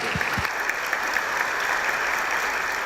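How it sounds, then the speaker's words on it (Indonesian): An Indonesian television talk-show studio audience applauds steadily, a dense, even wash of clapping from many hands with no voices on top. "kita berikan aplaus kembali untuk Bunga"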